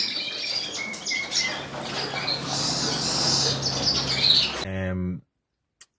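Bengalese finches chirp and tweet busily in a lively chorus, overlapping high calls with faint rustling, ending in a brief voice then silence.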